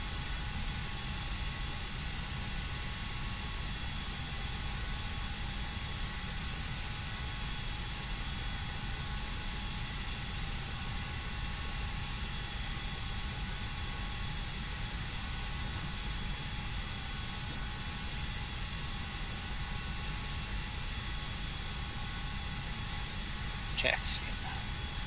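Simulated Phenom 300 business jet taxiing in Flight Simulator X, a steady, even engine whine and drone held at a constant level for the whole stretch, with one brief click near the end.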